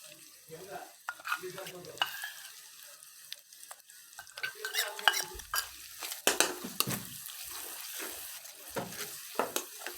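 Ginger-garlic paste with chilli, cumin and turmeric powder paste frying in a pan, heard as a close crackling sizzle broken by loud stirring scrapes and clinks of a utensil against the pan.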